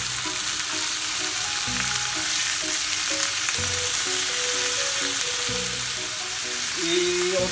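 Food frying in hot oil in a pan, a dense continuous sizzle with crackles and occasional stirring scrapes that holds steady and close throughout.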